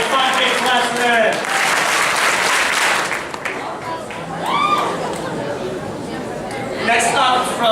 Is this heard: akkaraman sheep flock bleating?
no